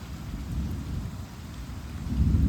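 Heavy rain pours steadily in Sikhwala village, Lambi block, with a continuous loud roar of drops and a deep low rumble that swells toward the end, no voices.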